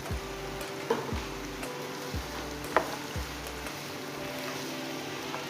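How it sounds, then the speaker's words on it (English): Fried rice with green beans, sweet corn, carrots and peas gets stirred in a pan, a soft steady sizzle with a few spaced scrapes and taps of the spoon, close and quiet. "I'm giving it a stir."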